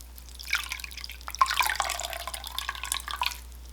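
Excess water drips and trickles from freshly dyed orange yarn as it is squeezed out by hand, giving quiet, irregular patters and small splashes close up against a low, steady hum.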